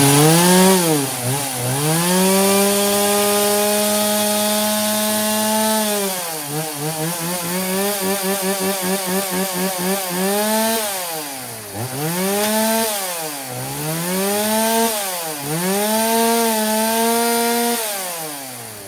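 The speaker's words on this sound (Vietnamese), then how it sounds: "mẫu cưa xích Estin MS170" A Stihl MS170 chainsaw cuts through wood, its engine pitch dipping under load and rising again between passes in repeated cycles, loud and close with no talk.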